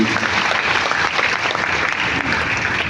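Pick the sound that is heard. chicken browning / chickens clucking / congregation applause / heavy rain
congregation applause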